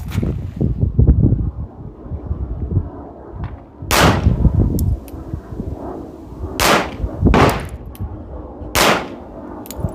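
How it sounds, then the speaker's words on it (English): Several sharp gunshots ring out outdoors at the range while a red dot sight is sighted in, spaced a second or more apart, loud and close. Each crack is followed by a brief echo, with wind noise underneath. "And then take another shot and see where we're at."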